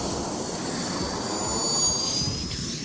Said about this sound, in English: Jet turbine-powered RC car.